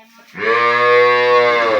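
A single long, loud moo from a Holstein Friesian cow, deep and steady, rising quickly and holding for over a second with no other sounds.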